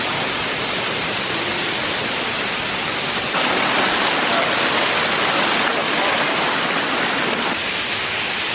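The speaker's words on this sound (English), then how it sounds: "This has got to be the greatest waterfall we've ever seen." Large waterfall at Rock Island State Park, Tennessee, a steady, loud broadband roar of falling water that swells slightly partway through and holds continuously without a break.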